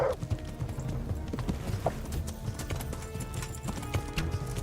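A horse in the medieval game Kingdom Come: Deliverance clip-clops along in a steady galloping rhythm of hoof beats, with a short whinny near the start and faint player voices in the background.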